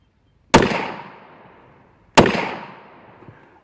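Two sharp, loud shots from a Walther PPQ 9mm pistol fired at a steel disc target, spaced about a second and a half apart, each ringing off in a decaying tail with a faint metallic ping after the second.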